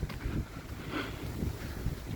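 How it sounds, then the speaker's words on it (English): Gusty wind buffeting outdoors, a continuous rough rumble with swells, loud and close, without any talking. "It's windy and the leaves are blowing around"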